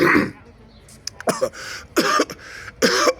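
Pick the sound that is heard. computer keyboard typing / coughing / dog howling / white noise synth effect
coughing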